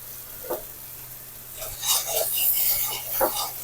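Spice masala with salt frying in a pan for a Loitta shutki (dried fish) curry with brinjal and potato, a soft, steady sizzle broken by rasping scrapes of a spoon stirring at close range, with no voices.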